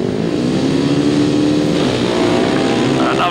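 Grasstrack racing motorcycles at High Easter roar off the start line together, a loud, sustained multi-engine blare with rising revs and no pause.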